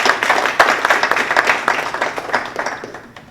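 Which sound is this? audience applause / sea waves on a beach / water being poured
audience applause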